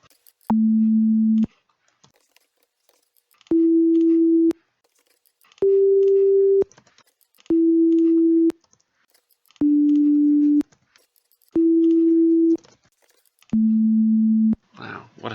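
A code-built synthesizer plays a pure, sine-like tone in seven evenly spaced beeps of about a second each, the pitch shifting slightly between notes, clean and alone against near silence.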